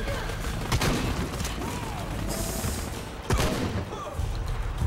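Shotgun blasts in Shadow of the Tomb Raider, two loud booming shots a few seconds apart over a steady bed of combat noise, with a brief whistling swish between them.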